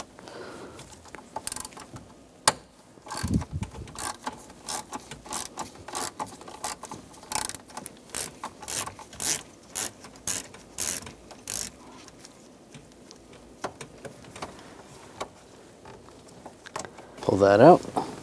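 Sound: T25 socket ratchet removing a screw on a Chevrolet Silverado

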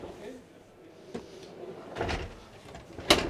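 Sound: storage drawers in a Dethleffs motorhome kitchen

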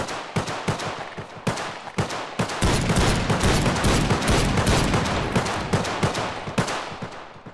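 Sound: gunfire in video game Garry's Mod

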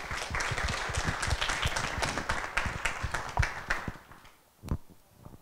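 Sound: audience applause for a regent

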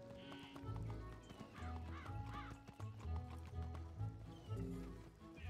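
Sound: horse galloping in the video game Wizard101

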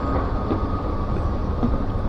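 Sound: subway train in station

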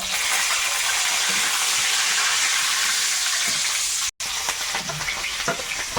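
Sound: whole garam masala and bay leaves frying in hot oil

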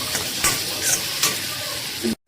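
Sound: ghee tempering (tadka) sizzling in pan

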